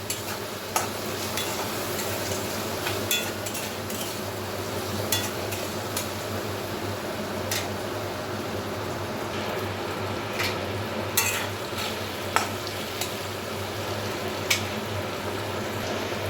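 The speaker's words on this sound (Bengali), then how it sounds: "খুব ভালোভাবে ভেজে নেব।" Mixed vegetables, including potato, fry with turmeric and salt in a pan, a steady sizzle under frequent clinks and scrapes of a spatula stirring, close and continuous.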